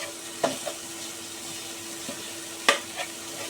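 Finely chopped onion fries in a pan with cinnamon and cardamom, a quiet sizzle broken by a few sharp clinks and scrapes of the spatula as it is stirred.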